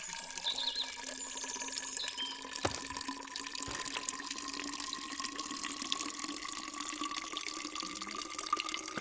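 A water tap fills a watering can in the Plant Nursery Simulator video game, giving a steady, even stream of running water that continues unbroken throughout, with a couple of faint knocks partway through.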